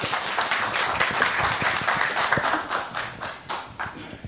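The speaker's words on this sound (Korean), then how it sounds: "우리 김 팀장님 뜨거운 박수로 환영 부탁드립니다." A seminar audience claps to welcome a speaker onto the stage, a dense, steady round of applause close by that holds for several seconds before thinning at the end.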